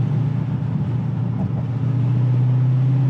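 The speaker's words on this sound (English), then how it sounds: "You get the V8 noise" Steady, deep V8 drone from a Dodge 392 Scat Pack cruising along, a constant low rumble that holds evenly throughout with no talk over it.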